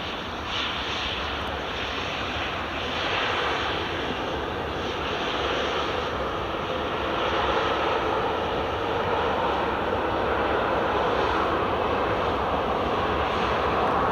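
A KLM jet airliner takes off at Edinburgh Airport using the full runway length, its engines producing a steady, powerful roar that builds slightly and holds for the whole stretch, alone and fairly near.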